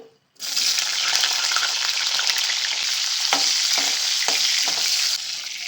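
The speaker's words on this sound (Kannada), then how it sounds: "ಬದನೆಕಾಯಿ ಕೂಡ ಫ್ರೈ ಮಾಡ್ಕೊಳ್ತೀನಿ" Brinjal (eggplant) pieces fry in a pan with a loud, steady sizzle that starts abruptly and holds for several seconds, with a few faint clinks of a utensil and no talking.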